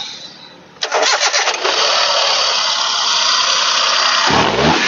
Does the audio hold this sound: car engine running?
yes